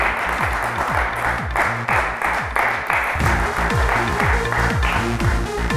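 Steady audience applause fills a studio stage event on a spiritual quiz show, with a music bed running beneath the clapping throughout.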